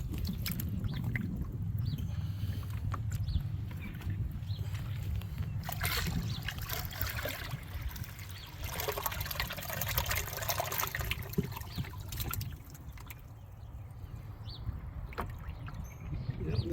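Water sloshes and trickles as bass are released from a cooler chest into a new pond in Central Texas, a steady, fairly faint splashing and pouring with a few brief stronger surges.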